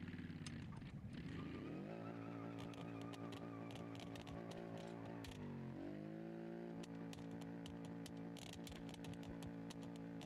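A damaged, oil-starved car engine in BeamNG.drive drones steadily and rises and falls in pitch, with sharp crackling pops spattered over the hum.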